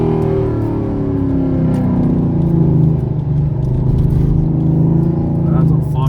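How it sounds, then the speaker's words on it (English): Corvette ZR1 accelerating past during a roll race on a rough road, a loud deep engine rumble that rises and holds for several seconds, heard close from inside a car without clear speech. "That's a fucking tank of a pass for the fucking Corvette"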